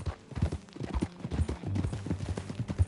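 Horse hooves clip-clop at a ride pace in Red Dead Redemption 2, a moderate rhythmic clatter with soft low thuds, faint and unaccompanied by talk.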